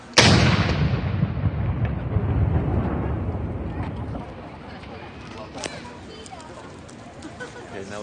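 Ceremonial cannon fired on Canada Day at Queen's Park in Toronto, one loud close boom at the start rolling into a long fading rumble, with a crowd murmuring and reacting in the background.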